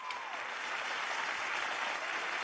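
Audience applause at a peace festival gathering, steady dense clapping from a large crowd, even and sustained throughout.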